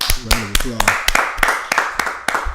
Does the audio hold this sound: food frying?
no